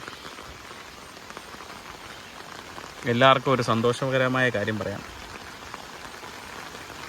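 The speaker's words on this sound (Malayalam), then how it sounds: "നല്ല മഴയാണ്" Steady rain hisses throughout, with someone speaking briefly in the middle over the downpour.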